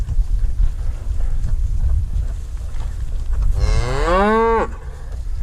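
A cow moos once, a loud, near, drawn-out low call lasting about a second, while cattle are caught for processing with polywire in a windy outdoor pen, against steady wind rumble and no speech.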